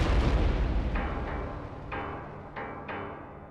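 Early artillery fires several heavy booms, each a sharp blast followed by a rumbling decay, spaced unevenly over a few seconds. A dense low roar sits underneath, and no voices are present.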